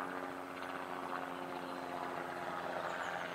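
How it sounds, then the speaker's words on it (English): Helicopter flying overhead, a steady rotor and engine drone that holds at an even, moderate level for a few seconds with no talk over it. "It's a helicopter."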